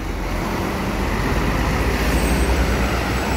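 Road traffic heavy with buses rumbles on steadily and loudly at the Bulak Kapal terminal in Bekasi. The engine noise is continuous and close, with no pauses.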